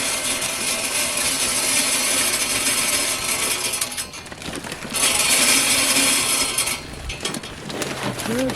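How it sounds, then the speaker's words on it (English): Traeger hardwood pellets poured into the hopper of a 2023 Ironwood second-generation pellet grill in a backyard, a steady loud rattling hiss that pauses briefly and then resumes. "Yep, we gotta add some pellets."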